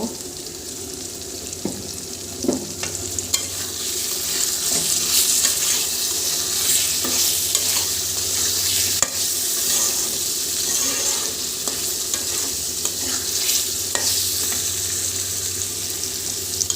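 Eggs fry in a thick spiced sauce in a pan, with a continuous sizzle and bubbling under intermittent spoon scrapes and clinks as the mixture is stirred.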